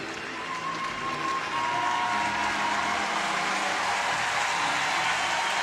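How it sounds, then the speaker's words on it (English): Steady applause and crowd noise from a college baseball stadium at the NCAA College World Series, a broad continuous wash of clapping, moderately distant. "The undrafted junior, who likely will be back next year for Coastal, gets a round of applause."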